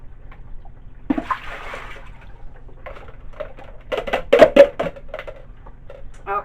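Hot water poured out of cups while making soap, heard as splashing, pouring water in bursts from close by, loudest toward the end, with soft background noise and no talking.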